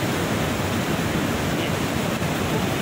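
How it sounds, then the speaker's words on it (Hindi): Fast-flowing river near Kedarnath in the mountains, a steady, loud broadband rush of water that fills the whole stretch without a break and with no voices. "पानी का बहाव गाइस इतना तेज़ है मेरी आवाज़ भी आपको स्लो आ रही होगी"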